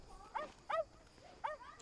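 A dog near a street curb gives three short, sharp barks spaced about half a second apart, fairly close and clear, with no talking.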